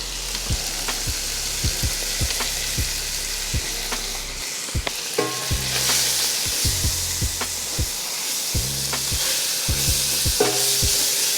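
Flour being stirred into a sizzling pan for a vegetarian spinach dip pasta: steady frying hiss under repeated scraping clicks of a utensil against the pan, close and continuous with no talk.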